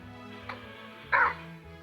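In the Minecraft video game, a pet dog gives a brief, sharp bark followed by a softer whimpering yip. The sounds are short, isolated digital game effects.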